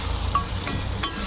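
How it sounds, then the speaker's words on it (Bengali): Banana-flower lentils being stirred in a pan, a soft steady scraping and gentle sizzle throughout with a couple of faint clinks, close and alone without talk. "এবার আমি এটা নাড়তে থাকবো।"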